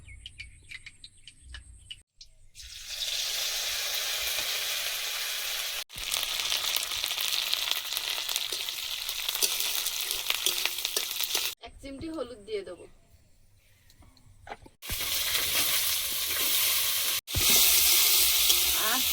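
Neem leaves fry in a pan, crackling and sizzling in loud bursts broken by abrupt cuts, with a quieter gap where faint bird chirps come through.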